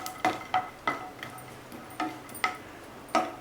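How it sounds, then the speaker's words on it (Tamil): Cashews frying in a pan for kalkandu pongal, with a soft sizzle under a regular series of about eight sharp taps and scrapes as a spoon stirs them against the pan. "இப்போ முந்திரியும் வறுபட்டுடுச்சு."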